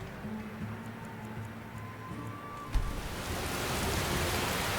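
Rain in the video game Skyrim comes in as a steady broadband hiss after a quiet stretch with faint tonal ambience, then stays loud and even to the end.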